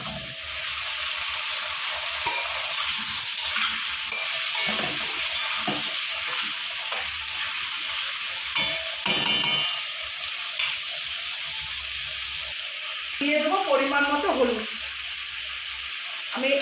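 Cut taro pieces hit a hot pan and fry with a steady, loud broadband sizzle throughout, a brief sharper burst partway through and some clattering stirring near the end; no voices.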